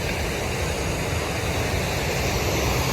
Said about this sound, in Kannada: ಈಗ ಹೋಗ್ತಾ ಇದ್ದೀವಿ ನೋಡ್ಕೊಂಡು ಫಾಲ್ಸ್